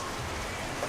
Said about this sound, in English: Show and a little rain. I say little, but it's a lot.